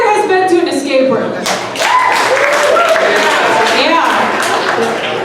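A comedy club audience claps, with a crowd of scattered hands building into applause and cheering under a loud voice, with some whoops and shouts mixed in.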